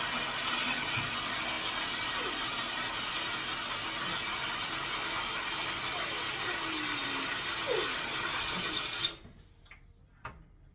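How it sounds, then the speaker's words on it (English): Water runs through a whole house filter packed with activated carbon, a steady hissing rush that holds for several seconds before stopping abruptly, leaving near silence with a couple of small clicks. "I'm going to run water through here a couple times."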